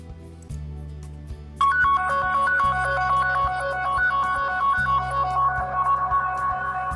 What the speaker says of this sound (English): your device will automatically rings even in silent mode also.